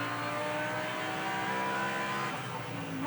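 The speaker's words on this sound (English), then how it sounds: "Pommer accelerates towards the Masters curve through the right" A Mercedes GT race car at Zandvoort in an ADAC GT Masters race accelerates through a right-hand curve, its engine a steady, loud roar that stays sustained and dense throughout, with no talk.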